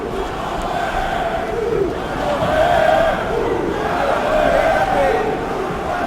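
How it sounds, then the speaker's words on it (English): Brazilian fans in an arena crowd cheer and chant for Barao during a fight against McDonald, a loud continuous roar of many voices swelling in waves, with a commentator talking over it. "You can hear the Brazilian fans cheering on Barao."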